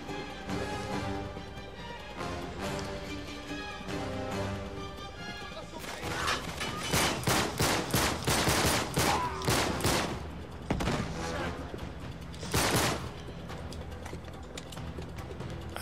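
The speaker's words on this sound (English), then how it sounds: "he had a goddamn machine gun mounted on his thing" A mounted machine gun fires in the action game Uncharted 3: Drake's Deception. Long rapid bursts of gunfire crackle over continuous game noise and crashing impacts, loud and sustained through the middle.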